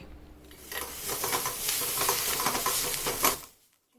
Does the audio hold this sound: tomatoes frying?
yes